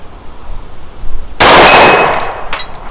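At an outdoor shooting range, a pistol shot strikes a steel gong target, producing one sudden, loud crack that fades into a bright, ringing metallic tail under faint background hiss.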